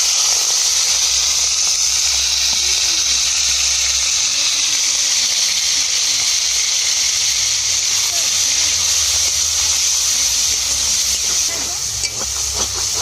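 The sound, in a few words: prawns frying in hot oil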